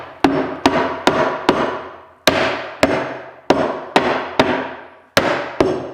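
A mallet taps a wooden piece into place while a mobile cart is built, about eleven sharp knocks in uneven groups, each with a short ringing decay, close and loud with no voices.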